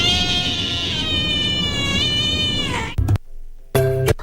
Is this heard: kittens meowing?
yes